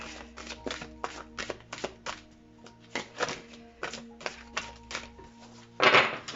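Tarot cards shuffled at close range, a steady run of quick crisp riffles and taps, ending in a louder, fuller riffle, with no voice.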